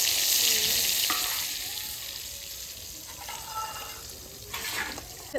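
Steady oil sizzling and crackling of frying, close and loud, with occasional clinks and stirring scrapes over it.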